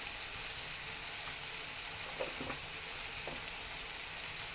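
Eggplant and chana dal curry, salted, frying in a pan, a constant dense sizzle with a few soft scrapes of a spoon stirring, close and steady.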